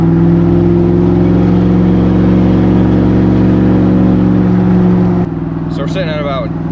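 A Chevrolet Silverado pickup fitted with a large TSO exhaust tip drones loudly with a steady, deep engine note heard from inside the truck, then eases off near the end as a voice speaks briefly.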